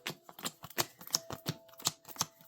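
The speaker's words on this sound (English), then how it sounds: "this one's just probably going to be a pile shuffle since everything's probably really close together" Yu-Gi-Oh cards being pile shuffled, heard as a quick series of light, crisp card slaps and clicks repeating at an irregular pace, fairly quiet and close with no talk.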